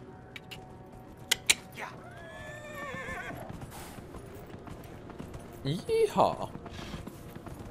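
A horse whinnies in Dragon Age: Inquisition with a rising, wavering cry, followed by hooves clopping, amid game ambient noise and brief talk.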